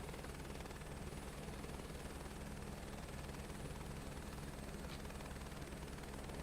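Helicopter in Microsoft Flight Simulator 2024, flying over Athens: a faint, steady rotor and turbine drone with a rapid underlying pulse, unchanging throughout.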